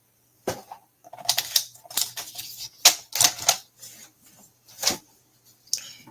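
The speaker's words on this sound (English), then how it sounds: "And I'm going to cut that off straight." Paper being trimmed straight for a card-making layout, a series of crisp snipping and rustling clicks in uneven bursts, close and fairly quiet.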